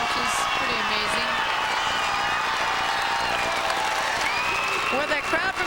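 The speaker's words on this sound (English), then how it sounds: "With a crowd from down south going nuts." Crowd at a 1992 girls' volleyball Class AA championship game goes wild, with loud sustained cheering, shouting and whoops, plus scattered clapping, throughout. Voices are mixed in with the noise.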